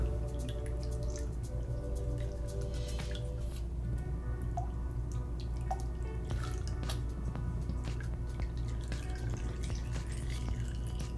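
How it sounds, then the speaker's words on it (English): Fork oil drips and trickles steadily out of Fox and RockShox suspension fork lowers during a service, a quiet continuous liquid patter over a low background hum. "Once you have properly drained the oil out of the lowers"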